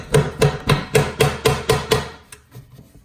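Hammer striking metal to pry off an oil pan on a Fiat 500 Abarth, eight fast ringing blows in even rhythm, close and loud, then a few softer taps trailing off.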